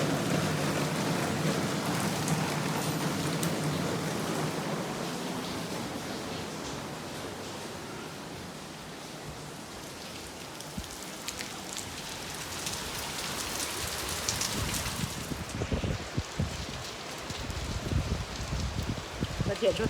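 Steady monsoon rain falls in Surat, Gujarat, pattering on surfaces, a continuous hiss that fades slightly midway, then returns with sharper drips and knocks toward the end.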